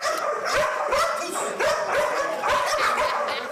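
Several trained dogs at a railway company's dog-handling centre bark in repeated bursts over a busy, noisy background, with some yips mixed in, fairly close and steady throughout.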